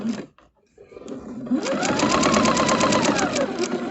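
A sewing machine starts after a short pause and whirs steadily, stitching a quilt seam at a quarter-inch allowance, close and fairly loud.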